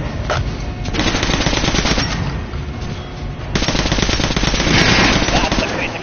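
Rapid automatic gunfire in a video game shooting range, blasting an armored training dummy in long, dense bursts with a short pause between volleys, loud and continuous.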